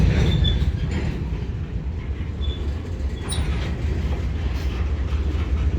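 CSX freight train backing slowly into a rail yard at Brunswick, a steady rumble of rolling cars with occasional faint wheel squeals and clanks, heard alone at moderate distance.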